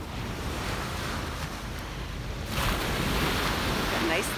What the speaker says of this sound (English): Got nice loud waves this morning.